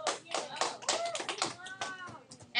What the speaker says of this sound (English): Everybody give Sloan a round of applause